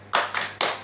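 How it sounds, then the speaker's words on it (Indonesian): A group of women at a training session does a rhythmic spirit clap. Three sharp, loud, evenly spaced hand claps ring out close by, with no talking. "Kita tepuk semangat dulu ya Bu."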